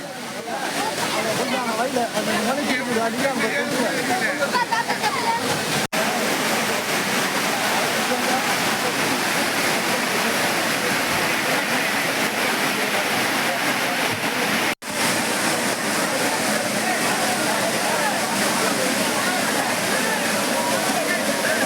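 The Courtallam waterfall roars in a dense, continuous rush of pouring water, loud and unbroken throughout.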